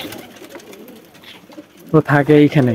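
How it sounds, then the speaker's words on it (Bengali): A king pigeon gives several throaty coos close by, loud rhythmic bursts near the end following a stretch where someone talks quietly. "এই যে কিং কবুতর, এই মটকা এ থাকে এই ফেসে এইখানে"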